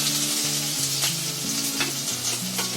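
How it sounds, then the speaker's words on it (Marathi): A steady, dense sizzle of green chillies frying in two spoons of hot oil, close up, with occasional stirring scrapes and a faint low tonal hum underneath, and no speech. "त्याच्यामध्ये ही आपली मिरची टाकते."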